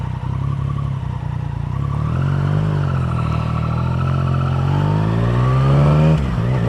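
A motorcycle, a Yamaha Tracer-style touring bike, being ridden, its engine droning steadily loud and close, then rising in pitch as it accelerates with wind rush and no talking.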